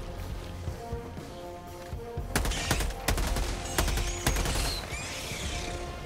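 Weapon fire in the video game Helldivers 2 comes as a cluster of sharp, fairly faint shots and short bursts in the middle, set over a low ambient game background.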